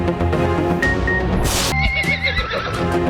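Horses at a roadside market for fine-breed horses in Peshawar, with a loud neigh rising over steady crowd and market noise, the market din continuing throughout.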